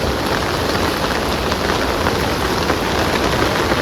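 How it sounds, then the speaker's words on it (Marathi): Loud, unbroken downpour, a thick steady roar of rain hitting surfaces nearby, with no talking over it. "किती पाऊस पडतोय"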